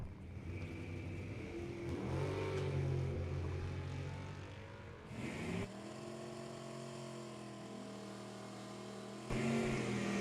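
Drag racing at a bracket event as a '41 Willys and a Vega Wagon stage and launch, engines roaring loud and close with rising revs, a brief drop near the middle, then heavy engine noise again.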